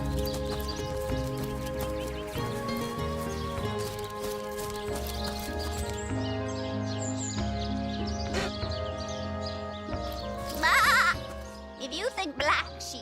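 Sheep bleat in Divinity: Original Sin Enhanced Edition, two short bursts near the end rising over a dense, continuous bed of game music.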